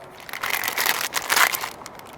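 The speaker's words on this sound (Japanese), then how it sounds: "とりあえず開封してみましょうか。" Crinkly plastic packaging of a NAKARAI Migaking polish for chrome plating and stainless steel is torn open, giving close, fairly loud crumpling and crackling in a couple of bursts.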